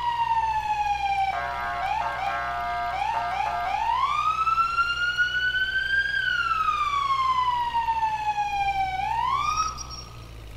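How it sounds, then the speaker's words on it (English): Emergency vehicle siren in the EmergeNYC firefighting and rescue video game, loud and continuous, shifting from a rapid yelp into long rising and falling wails before easing off at the end, with no voices. "I'm going to turn the siren on"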